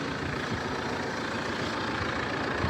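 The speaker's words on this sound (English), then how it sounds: "Really healthy sounding engine." A 62-plate Vauxhall Insignia SRI idles steadily close by, giving a continuous low engine rumble with no talk over it.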